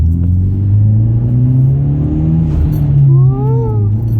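A Hyundai Genesis Coupe 2.0T turbo four-cylinder hums loudly up close, the engine note climbing smoothly as it revs with a brief rise toward the end.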